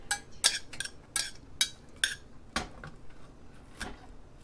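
A spoon clinks against a bowl while a sugar mixture is stirred, giving a string of light, sharp taps at an irregular pace, quiet and close with no talking.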